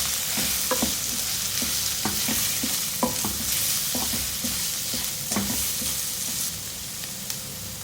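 A spoon scrapes and stirs red chilli powder, chaat masala and amchur powder in a pan for samosa filling, giving repeated irregular knocks against the metal over a soft sizzle, close and steady, with no voices.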